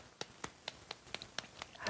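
A church congregation claps together in a quick, even rhythm during a service, about eight sharp claps in under two seconds, faint and somewhat distant.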